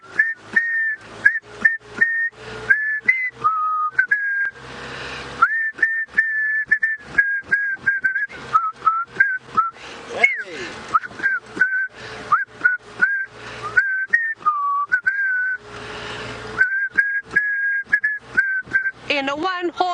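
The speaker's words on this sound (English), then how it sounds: "Okay, we're going to whistle Jingle Bells." Several people whistle the Jingle Bells tune together during a live sunrise safari drive, bright melodic whistled phrases with short breaks between notes, fairly close and loud, with brief voices cutting in.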